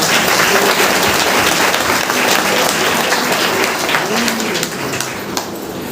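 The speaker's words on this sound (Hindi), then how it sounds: "हमारे गुरु जी के लिए जबरदस्त ताली होनी चाहिए" Sustained audience applause at a community business meeting in Basti, dense and loud throughout, easing slightly near the end.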